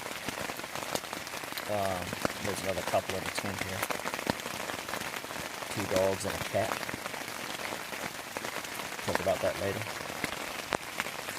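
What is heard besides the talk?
rain falling on a tent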